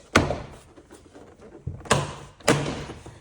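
Plastic door card clips pop free from a Range Rover Sport door as the panel is pried away, giving a few sharp, close thunks spaced irregularly with quiet handling noise between them.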